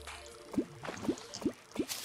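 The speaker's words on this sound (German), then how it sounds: "dann fließt das ganze Wasser da unten rein" Water in the Terraria video game flows down into a tube as four soft, evenly spaced dripping plops over a quiet background.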